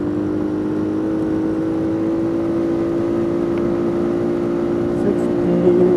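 Suzuki KingQuad 750 ATV cruising at top speed around 65 mph on its limiter, a steady, loud engine whine with wind rumble holding constant throughout.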